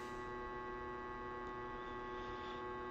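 Steady, unbroken electrical hum from a noisy power supply on a trapper unit, with clear buzzing harmonics, constant and quiet throughout and no voices.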